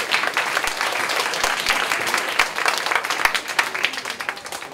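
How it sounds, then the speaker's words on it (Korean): Audience at a performing arts school festival opening ceremony giving warm, sustained applause, many hands clapping steadily and fairly loud throughout. "여러분 뜨거운 박수 부탁드릴게요."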